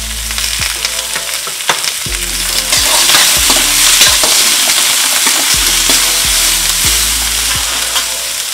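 Vegetables with beans and sweet corn stir-fry in a hot pan, with steady loud sizzling and a regular rhythm of spatula scrapes and knocks against the pan, and no talking.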